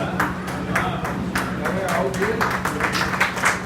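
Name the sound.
audience applause in a seminar hall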